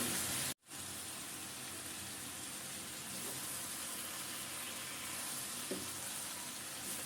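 Mixed vegetables frying in a covered pan, a steady broadband sizzle that runs continuously and evenly throughout, after a brief dropout at the start, with a faint clink late on.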